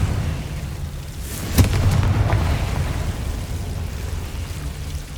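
A Confringo fire spell explodes in Hogwarts Legacy: one sharp blast with a short crackling tail, standing out over a steady low ambient rumble.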